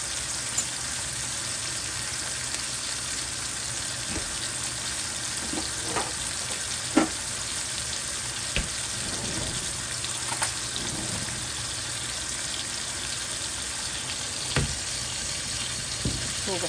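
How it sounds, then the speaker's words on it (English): Steak frying in a pan with butter and thyme in oil, a constant close sizzle with occasional pops and utensil clinks. "I'm going to make sure all this thyme gets fried up here in this oil"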